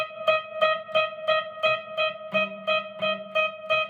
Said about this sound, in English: You might hear two notes clashing against each other,